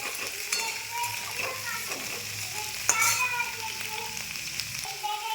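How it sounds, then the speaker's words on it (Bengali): Potato and vegetable stems stir-fry in a pan with a steady sizzle and intermittent scrapes and taps of stirring, while faint background voices sound in the distance. "এই যে ডাঁটাগুলো দিয়ে দিলাম। এই দুটো একটু নেড়ে নেবো 5 মিনিট।"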